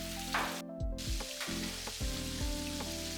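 Jamaican fried chicken breast pieces frying in hot oil, a dense continuous sizzle with occasional low thumps and clatter from handling nearby.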